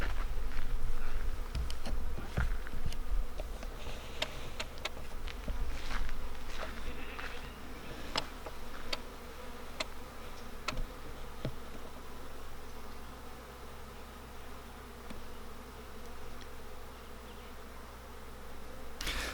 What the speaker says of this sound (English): We have a wild swarm of honeybees on the property.